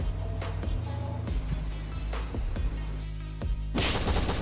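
Explosive charges blasting through a base wall in the survival game Last Island of Survival: a run of loud, sharp booms and crackling impacts, one heavier burst near the end, over a steady low game rumble.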